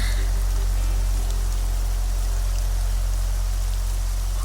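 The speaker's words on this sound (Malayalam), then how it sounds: "മഴയുടെ ഈ ആർത്തിരമ്പൽ എനിക്കെപ്പോഴും ഇഷ്ടമാണ്." Heavy rain pouring down steadily, a dense, even roar of water with a deep low rumble underneath, constant and close throughout with no voices.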